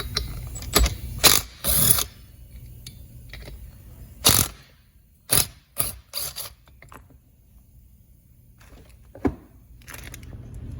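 A 13 mm clutch nut is loosened on an Echo string trimmer, making scattered sharp ratcheting clicks and metallic bursts with quiet gaps between them, close up.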